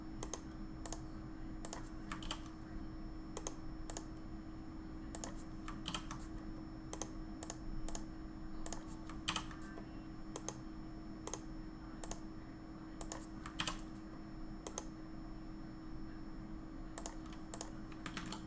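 Steady rapid typing on a computer keyboard while writing C++ game engine rendering code, the clicks close and continuous over a low constant hum, with no talking.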